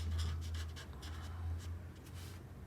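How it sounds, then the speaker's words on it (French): Felt-tip marker scratching and rubbing across paper while coloring in a guacamole drawing, a close, quiet, steady series of short strokes alone over a low background hum. "Donc moi j'utilise ce feutre-là. On vient colorier notre guacamole."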